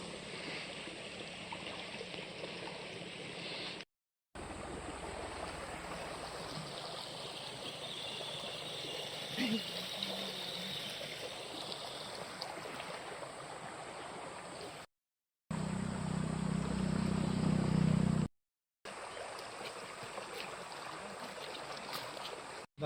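Water flows and trickles steadily where people stop to wash their hands and feet during a road trip, a continuous close stream with a brief louder gush near the end.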